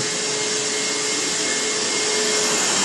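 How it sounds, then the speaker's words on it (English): Wet vac vacuum running loud and close, sucking up floodwater from carpets in a steady, unbroken roar. "Good thing we have Tom and Laura's wet vac here for cleaning our carpets."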